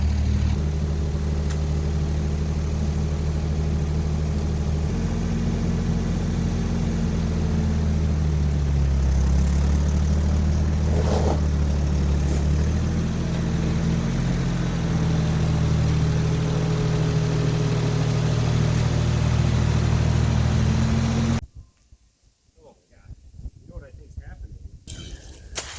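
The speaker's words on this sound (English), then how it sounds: "I'll get on the tractor, start backing up" A tractor engine idles and rumbles steadily at close range while backing up, a loud low drone lasting about twenty seconds before cutting off abruptly, leaving faint knocks and quiet background.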